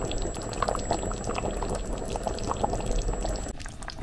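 Chicken tagine sauce with green beans bubbles away in the pot, a dense, even simmering and popping that carries on steadily at close range, with no voices over it.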